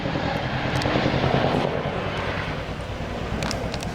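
A big Chinook twin-rotor helicopter passes over a farm, its loud, steady rotor and engine roar filling the air with a low thudding churn and some wind buffeting, holding close and strong throughout.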